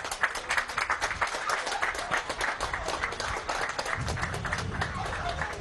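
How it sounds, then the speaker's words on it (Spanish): Applause from a gathered crowd at an outdoor inauguration of a community missions base, honoring the governor; steady mixed clapping throughout, with murmuring voices and background noise underneath. "vamos a dar un aplauso al gobernador"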